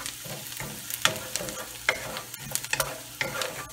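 Smothered pork neckbones cook down in a pan, sizzling and frying softly while a utensil stirs and scrapes at irregular intervals, with clattering taps, fairly close and quiet.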